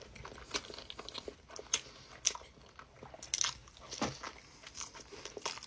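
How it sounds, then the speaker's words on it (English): Close, crisp crunching bites and chewing, irregular bursts of crackly mouth sounds with quiet pauses between, no talking. "audible sounds of the chewing"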